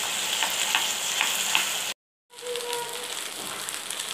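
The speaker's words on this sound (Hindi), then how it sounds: "हम इसमें अपनी गोभी तली हुई हम इसमें डाल देंगे। इन सब चीज़ों को अच्छा मिक्स करेंगे।" Fried cauliflower florets for Gobi Manchurian being tossed into sauce in a hot pan, with a steady sizzle and scraping stirs, cut by a brief silent gap before the frying hiss resumes.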